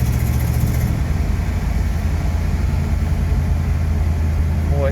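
A 1973 Chevrolet C10 pickup with a 454 V8 pulls steadily in third gear, a loud, continuous engine drone with road noise that stays close and even throughout, a voice briefly heard over it.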